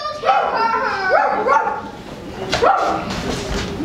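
An actor on stage imitates the dog Nana in a Peter Pan Jr. school play, giving several loud, yelping barks in two bursts, with other voices talking around them.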